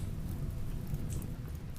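Rain falling in the video game Rimworld, a soft, steady patter with a low rumbling wash underneath, fairly quiet and continuous with no talk.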